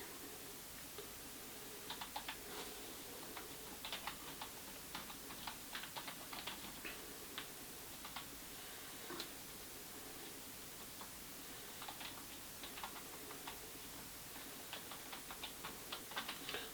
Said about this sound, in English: let's actually see how loud this keyboard is